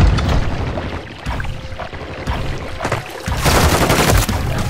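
Rapid gunfire in a Call of Duty match, dense bursts and cracks crowding the whole moment, loud and close, swelling heavier toward the end.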